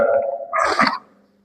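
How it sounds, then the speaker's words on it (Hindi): A man takes a sip of water in a hot room, with a short, close burst of gulping and swallowing lasting about half a second before the sound fades to quiet. "यार बहुत गर्मी पड़ रही है, थोड़ा सा पानी पी लेता हूँ, मेरा गला सूख रहा है"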